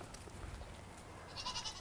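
Goats at the Idaho Falls Zoo give a faint, short bleat near the end over a quiet background hum.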